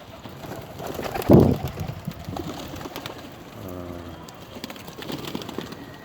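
Pet pigeons coo in a short low rolling call, near and fairly soft, with a brief scuffle of noise and quiet background sounds around it.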